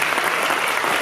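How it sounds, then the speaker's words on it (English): Dense, loud applause from a graduation ceremony crowd at a Columbus Urban League event, a continuous wash of many hands clapping with no voices over it. "Can we give these guys a round of applause for that?"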